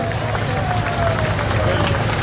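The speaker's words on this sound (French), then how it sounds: "c'est de les applaudir à leur passage." A crowd applauds as tractors pass in a harvest festival parade in Provins, with dense, steady clapping that continues unbroken at moderate loudness.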